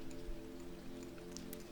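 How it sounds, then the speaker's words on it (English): Steady, soft rain falls outside, a faint continuous patter heard from indoors with no voices over it. "I'm not sure if you can hear, but we have some rain outside"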